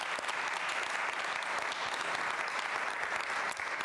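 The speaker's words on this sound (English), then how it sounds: "So please give her a round of applause." Audience at a public library book signing and benefit event gives a round of applause, a dense, even roar of clapping hands from a crowd that holds steady for the whole stretch.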